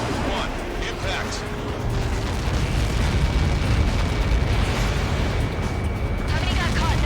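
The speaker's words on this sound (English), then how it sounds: "How many got caught in that explosion?" A huge Helios projectile blast in the Ace Combat 7 jet combat game, a sustained low rumbling roar that holds loudly throughout without a distinct single boom, with game sound layered over it.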